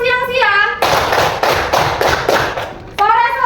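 Hands clap in quick bursts during a classroom clapping game, a run of sharp, close claps in uneven groups set between short spoken calls before and after.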